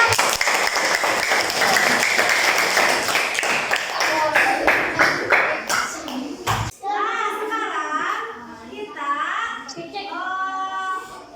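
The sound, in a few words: applause, class clapping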